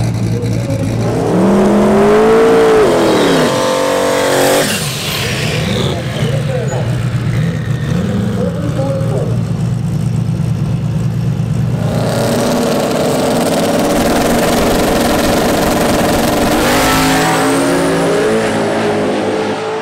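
A drag race car at Bandimere Speedway launches with a loud engine roar that rises in pitch through the gears and breaks up near the top of high gear, then drops back to a lower, rougher idle-like rumble.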